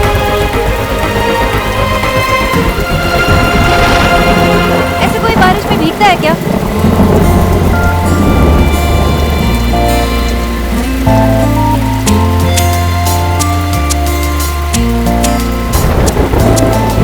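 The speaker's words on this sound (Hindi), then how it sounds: "बाहर बारिश भी हो रही हो।" Rain pours steadily in a constant hiss beneath loud background music and occasional voices.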